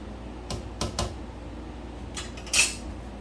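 A spoon stirs meatball sauce in a pot for a Sicilian recipe, giving a handful of quiet, scattered clinks and scrapes against the metal, with the last knock slightly louder, over a soft background hush.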